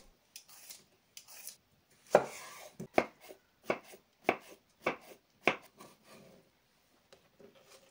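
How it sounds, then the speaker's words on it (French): A knife chops green beans, scallion, coriander and cucumber on a cutting board in a series of crisp, separate close thuds with short pauses between them. "Je coupe 100 g d'haricots verts en tronçons d'1 cm, une cive, 10 g de coriandre, un demi-concombre"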